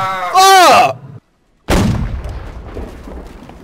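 A ship's cannon volley booms out in the naval battle game Holdfast: Nations At War. A single heavy blast with a rumbling tail comes right after a shouted voice and a brief silence.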